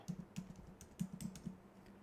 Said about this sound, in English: And I'm going to type happy birthday.